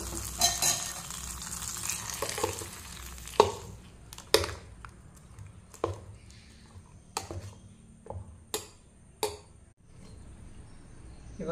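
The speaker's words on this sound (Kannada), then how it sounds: "ಒಗ್ಗರಣೆಗೆ ಎಣ್ಣೆ, ಸಾಸಿವೆ ಹಾಗೂ ಕರಿಬೇವನ್ನು ಹಾಕಿದ್ದೇನೆ" Mustard seeds and curry leaves fry in hot oil for a tempering, giving a close, steady sizzle broken by sharp, irregular pops and crackles. No one speaks.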